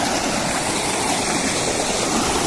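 Steady, loud rushing water pours continuously through eroded soil, a dense unbroken flow close by with no voices.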